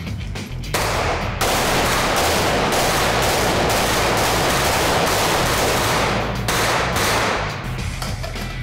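Machine guns fire in long, loud, sustained bursts at an outdoor range, the rapid automatic fire running almost continuously with brief breaks near the start and end.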